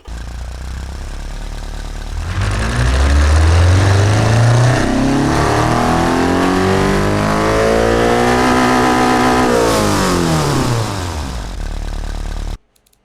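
A 2-litre naturally aspirated hatchback engine in a video game climbs from idle through a loud hard rev, the pitch sweeping upward and holding high before dropping back to a steady idle.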